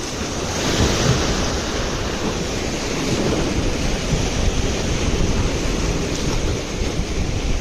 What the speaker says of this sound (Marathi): लाट बघा मित्रांनो पाणी बघा कुठपर्यंत येतो